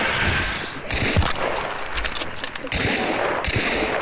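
Rapid gunfire in Hunt: Showdown, a loud close volley of overlapping shots that comes in several bursts with short quieter gaps between them.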